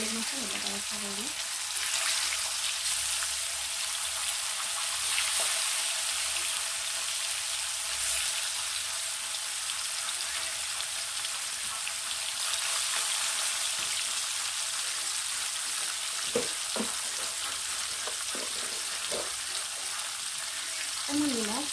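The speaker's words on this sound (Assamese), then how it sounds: "তাৰপিছত তেল গৰম হৈ গ'ল, তেলতে অকণমান হালধি দিছোঁ, মাছ কেইপিচ এতিয়া প্ৰথমে ফ্ৰাই কৰি ল'ম।" Chanda fish pieces fry in hot oil seasoned with turmeric, giving a steady, close sizzling hiss that runs throughout with a few brief clinks and stirring sounds.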